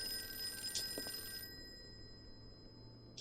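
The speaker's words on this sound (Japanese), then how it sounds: "電話。" A telephone rings in the Call of Cthulhu video game, a faint trill heard briefly before it cuts off into quiet background hum.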